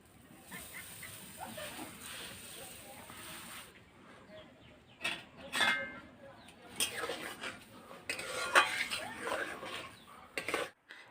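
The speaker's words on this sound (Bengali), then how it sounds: "এবার খুন্তি দিয়ে এটা সমানে এইভাবে নাড়াচাড়া করে যেতে হবে।" A spatula stirs homemade tomato sauce with sugar in a pan, giving irregular scraping and clinking against the metal, soft at first and then sharper and more frequent, with a voice speaking in the background.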